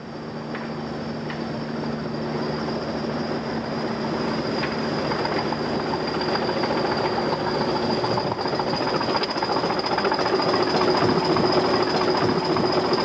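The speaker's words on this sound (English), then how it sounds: "The No Mixed Shipmans train is seen entering the Mid-Hants Railway at Alton." Class 20 diesel locomotives rumbling steadily as a train rolls past entering the Mid-Hants Railway at Alton, the low engine drone and wheel noise growing louder over thirteen seconds, with faint squeals.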